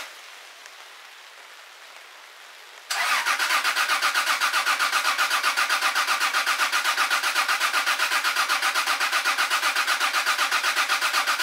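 Starter cranking a Chinook helicopter engine during a compression test: after about three seconds of quiet, loud, steady rhythmic cranking pulses start and run on evenly without firing, with no talk.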